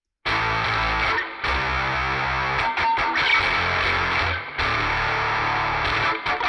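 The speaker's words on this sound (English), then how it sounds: "Let's hear how it sounds with distortion." A heavily distorted electric guitar chugs through loud, gritty power chords with short breaks between strums, close and full.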